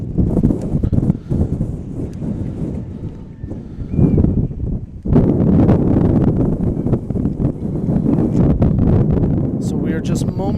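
Wind gusts buffet the microphone at field level in a soccer stadium before a U17 girls' final, a loud rumbling roar that swells and drops, with a voice speaking over it.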